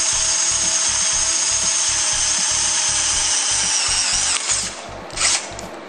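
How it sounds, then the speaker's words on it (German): A power drill bores holes into metal rods with a high whine and a rapid pulsing motor beat. It runs continuously and nearby, with a couple of louder bursts near the end. "Dann müssen wir jetzt ein paar Löcher bohren da in den, bei diesen Stangen."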